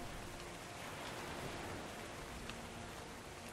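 Rain pours steadily in the video game ARK, a dense, even wash of hissing noise that holds at a constant low level throughout, with no other sounds or voices.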